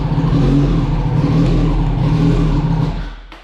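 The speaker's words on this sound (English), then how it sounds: "I give it gas and it dies instantly." Engine of a 2004 Yamaha R1 motorcycle, being rebuilt after a wreck, revving loud and close with a steady throbbing drone that fades off as it dies at the end.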